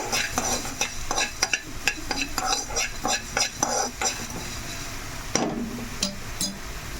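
Dry coconut masala frying in a pan for chicken fry, with a spoon scraping and stirring in quick repeated strokes over a steady sizzle, close and fairly loud, and a sharper clatter near the end.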